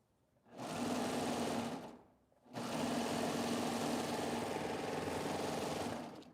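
A sewing machine stitches the shoulder seams of a cotton t-shirt with a steady, close mechanical whir, running in a short burst, pausing, then stitching again in a longer continuous run.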